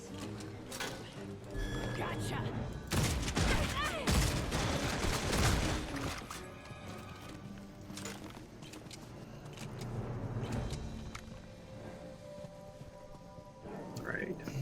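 Gunfire in the video game Redfall, bursts of sharp shots clustered mid-clip over a busy mix of game sound, with a few scattered shots later.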